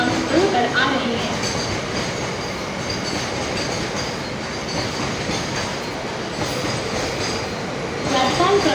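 A suburban local train moves through a Mumbai-area railway station platform, its steady rumble and wheel clatter running for several seconds with a squeal of wheels and a muffled voice underneath.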